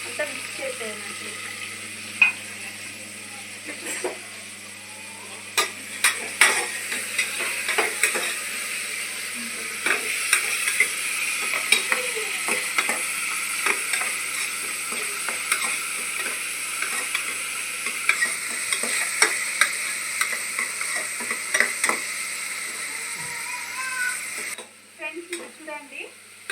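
Tomatoes, onions, green chilies, cinnamon, cloves and cardamom sizzle in a pan while a spoon stirs them, giving a steady frying hiss with frequent scrapes and taps against the metal throughout, as someone talks over it.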